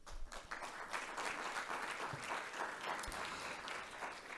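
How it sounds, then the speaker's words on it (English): An audience at a college convocation gives a steady round of applause, with continuous, evenly spread clapping from a large room heard at a moderate distance and no voices. "So applaud yourself for such a wonderful job of working with a diverse community of learners."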